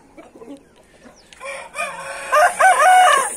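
Grey pullet roosters out in the sun crow loudly and close, a rising, drawn-out call after some soft clucking, with another crow overlapping at the end.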